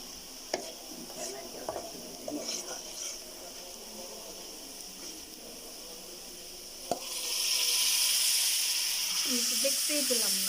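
Banana flower is added to a pan of reddened onions and chili powder, with scraping stirs and light clatter under talk, then a loud, steady sizzle of frying that lasts for several seconds.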